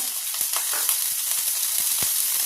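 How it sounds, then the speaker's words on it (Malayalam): Ginger garlic paste and green chili fry in hot coconut oil, a dense, close sizzling hiss with scattered crackles and pops throughout, no voices. "നമുക്ക് ഇഞ്ചി വെളുത്തുള്ളി പേസ്റ്റ് അതിട്ട് കൊടുത്തു പച്ചമുളക്"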